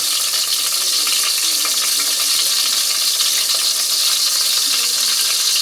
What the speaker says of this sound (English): Garlic. Fry it up a bit.